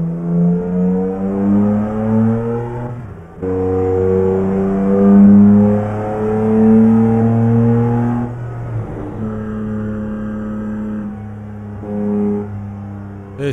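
A BMW engine in Euro Truck Simulator 2 drones and climbs in pitch through several gear shifts, each rev rising smoothly before dropping back. It sounds steady and close, with no talking.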